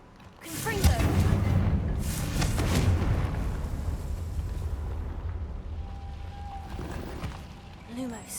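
Confringo blasting spell explosion in Hogwarts Legacy on PS5: a booming burst that swells into a long rumbling roar, fading slowly over several seconds, with a voice speaking over it.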